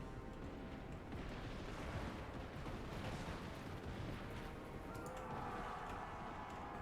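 Dwarf Thunderers firing guns in a Total War: Warhammer II battle, a dense continuous crackle of gunfire and rumbling blasts amid the din of combat, steady and moderately loud with no clear speech.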